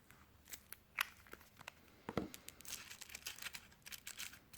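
Paper edges folded over with glue for a faux linen craft technique: quiet, close crinkles, rustles and sharp little snaps of paper, irregular and scattered.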